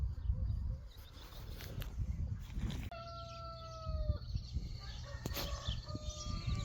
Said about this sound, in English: The chickens are going crazy this morning.